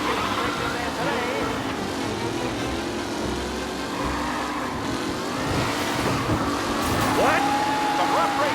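Racing cars in the Mafia Definitive Edition video game roar and rev continuously, with rough driving and occasional skids, engine noise steady and loud throughout under scattered voices.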